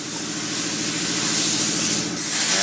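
Mixed automotive primer going on as a first coat from a spray gun, a steady close hiss of atomized paint that swells slightly and then jumps louder near the end.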